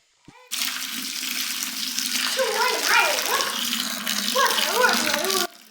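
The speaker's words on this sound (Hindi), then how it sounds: "उसमें बॉइलिंग वाटर डाल रही है केटल से गर्म कर करके" Boiling water poured from a kettle into a bucket holding a liquid sachet, a steady close splashing pour running several seconds with gurgling as the level rises, while someone talks over it.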